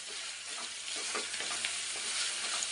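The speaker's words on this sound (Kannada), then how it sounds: "ಇನ್ನೂ ಒಂದು ಸ್ವಲ್ಪ ಅದು ಫ್ರೈ ಆಗಲಿ." Ingredients for gojju fry in a pan, a steady close sizzle and crackle with faint stirring scrapes throughout, no voices.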